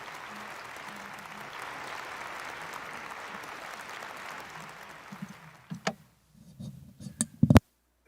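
Audience applause at the 2022 Sunhak Peace Prize ceremony, steady and broad for about six seconds, then fading into a few scattered claps and thumps near the microphone.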